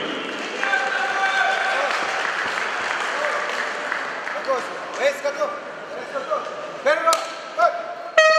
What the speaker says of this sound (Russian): Поддержим наших бойцов аплодисментами.